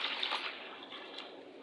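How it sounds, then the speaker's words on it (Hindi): Lentils are rinsed by hand in a vessel of water for cooking dal, giving a close swishing and sloshing that is strongest at the start and then settles into softer water movement, with no voices. "तो अब हम धो लेते हैं दाल"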